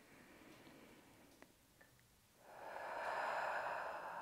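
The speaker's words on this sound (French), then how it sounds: "Lorsque vous expirez, je vais vous inviter à expirer par la bouche." During a back massage, a person exhales slowly through the mouth in one long, soft, breathy rush, close by and quiet, after a few faint ticks and small sounds.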